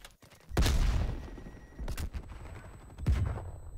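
Gunfire from a weapon in Call of Duty: Black Ops Cold War multiplayer, three loud, sharp bursts spaced about a second and a half apart, each trailing off into a rumbling tail over game ambience.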